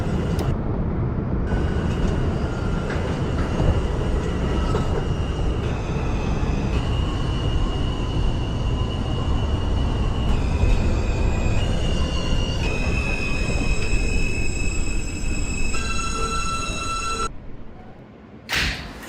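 A Manhattan-bound R subway train runs in the openbve train simulator game, with a continuous loud rumble of wheels on track and shifting tonal whines and squeals throughout, fading near the end.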